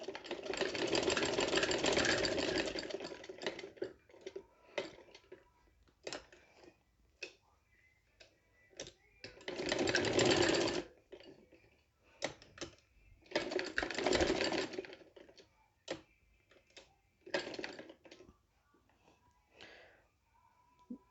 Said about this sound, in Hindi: इस तरह से यहाँ पे स्टिचिंग कर लें।